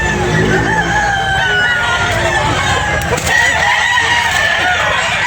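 A rooster crows loudly and close by at a busy poultry market, with clucking fowl and a steady crowd murmur underneath; people talk throughout.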